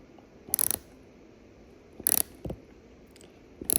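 A ratchet tightening a seatbelt bolt in a Ferrari F430 interior, heard as three short bursts of quick, dry clicking separated by quiet pauses, close and fairly soft.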